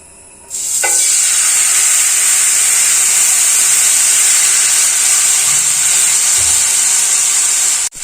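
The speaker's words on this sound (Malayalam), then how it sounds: "ഇനി നമുക്ക് മാവ് ഒഴിച്ചു കൊടുക്കാം കേട്ടോ" Ragi appam batter hits a hot, oiled appam pan, setting off a sudden loud, steady hiss and sizzle that holds close for several seconds before cutting off.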